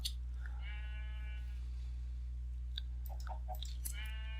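Sheep in a Minecraft modpack game bleat several times, wavering calls standing out over a steady low game hum, with small clicks scattered between them.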